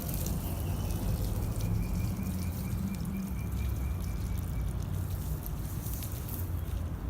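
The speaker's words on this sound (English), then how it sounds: "It's time to water. This is the last step, is watering." Water poured from a hose or can onto the soil around a newly planted grape vine set in fresh mulch, a steady close trickle and splash running throughout with no talk.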